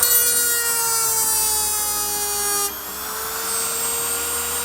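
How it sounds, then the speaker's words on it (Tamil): INGCO mini rotary grinder spinning against PVC pipe, a steady high-pitched whine that drops in pitch as the bit loads up, then continues at a slightly lower, rougher tone, close and loud with no talking. "இந்த பிவிசி பைப்பை கிரைண்டிங் பண்ண பார்க்கலாம்."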